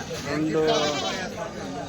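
Goats and bucks at a weekly Tuesday livestock market in Kadiri bleat briefly and close by, mixed in with people talking.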